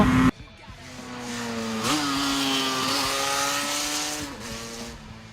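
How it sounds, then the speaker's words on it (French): A Yamaha RDLC two-stroke sport motorcycle engine revs hard past 6000 rpm, a loud rising wail that climbs through several surges and gear changes at close range, with no talking. "surtout lorsque le moteur passe voilà, comme maintenant, les 6000 tours et que l'on rentre dans la zone de puissance"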